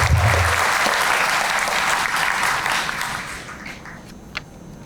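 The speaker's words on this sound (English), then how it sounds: "Another round of applause." Loud, dense crowd applause at a police district community relations awards ceremony for commendation award recipients, sustained and even before tapering off toward the end.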